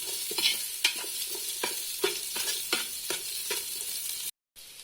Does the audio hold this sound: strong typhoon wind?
no